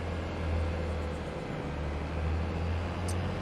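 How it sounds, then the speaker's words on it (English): A low, steady engine rumble hums continuously, moderately close, with no voices. "That's the sound of the other tractor reaching the tool shed."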